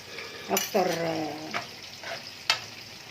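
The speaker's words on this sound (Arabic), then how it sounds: "اقلبه بس تقليبه كده وابدا اغرفه" Fava beans with onion and pepper being stirred in a pan, giving a soft sizzle with a few scraping stirs and brief clinks, close by under a voice.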